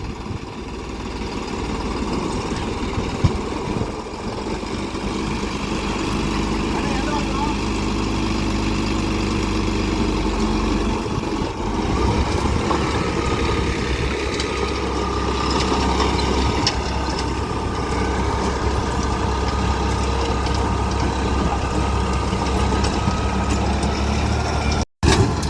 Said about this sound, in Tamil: ரொட்டவேட்டர் சத்தம் தான் வாயின்னு கேட்குது.